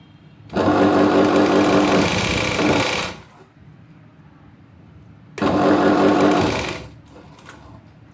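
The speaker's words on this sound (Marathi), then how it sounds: "आता आपल्याला पूर्ण शिलाई मारत यायची या कोण्यापर्यंत" A sewing machine stitches a boat-neck blouse neckline in two loud, close, continuous whirring bursts of about two and a half and one and a half seconds, separated by a quiet pause, with no talking.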